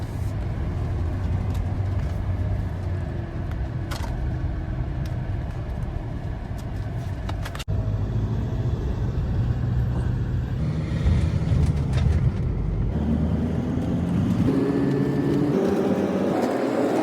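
Car interior on a short drive toward Eurotunnel passport control, a continuous low road rumble and engine hum with brief knocks, shifting tone near the end as the car slows.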